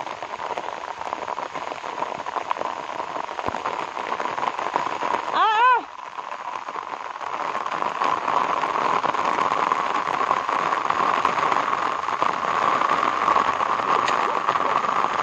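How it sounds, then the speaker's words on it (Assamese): Heavy rain pours steadily in a dense, hissing roar, with a brief voice cutting through midway. "বিৰাট ডাঙৰ বৰষুণ দিছে"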